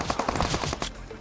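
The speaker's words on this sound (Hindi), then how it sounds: "ये पोरे मेरे ऊपर कुत्ते की तरह गोली चला रहे" Rapid gunfire from BGMI (PUBG Mobile) rattles out as a quick burst of roughly eight close shots in an even rhythm, then cuts off into quiet. No one talks.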